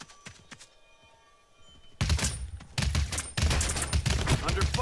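Rapid video game gunfire erupts loud and close after a quieter opening, with dense bursts of automatic shots continuing to the end, in warrior-class multiplayer combat.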